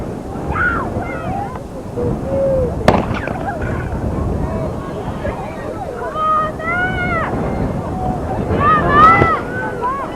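A starting gun fires once with a sharp crack at an outdoor high school track meet, heard through heavy wind buffeting, with voices and crowd chatter around it.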